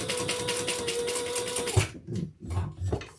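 A sewing machine stitches the bottom front and back panels of a handbag, a steady rapid mechanical whir for almost two seconds before it stops, followed by a few soft handling bumps and rustles.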